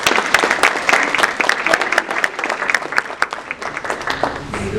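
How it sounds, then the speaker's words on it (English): Applause from an audience at a school district board of education meeting in Bayville, New Jersey, with loud, dense, continuous clapping filling the room throughout. "Can we have an applause?"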